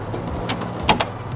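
Metal compartment doors on a work truck's service body are worked open and shut, giving a few soft latch clicks and a quick pair of sharp clacks near the end, close by and fairly quiet.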